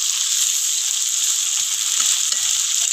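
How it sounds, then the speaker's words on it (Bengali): Onions frying in a pan for spicy UP-style chicken curry, a steady, bright hiss and crackle of hot oil, close and continuous throughout with no talking. "পেঁয়াজটা আমি লাল করে একটু ভেজে নেবো।"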